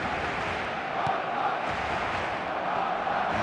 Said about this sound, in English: There is still movement in the crowd, plenty of people yet to take their seats.